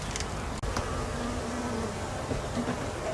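Dense, steady buzzing of many honeybees close by on a frame lifted from a weak hive, a continuous drone with no talking.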